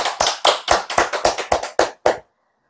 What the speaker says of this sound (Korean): 다 같이 박수해 주십시오.